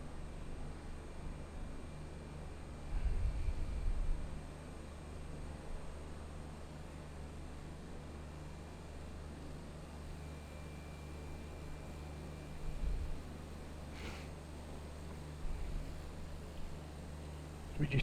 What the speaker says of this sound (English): Listening to the engine humming away there.